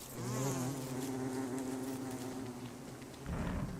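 A steady, close insect buzz of bees in Don't Starve Together drones continuously, with a brief louder rustle near the end.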